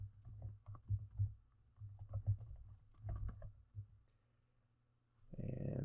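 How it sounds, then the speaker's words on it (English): Typing on a computer keyboard while entering data for a statistics problem: quick, close bursts of key clicks separated by short pauses, followed by a brief louder rustle at the end. "I will type that in right here so that we can get that"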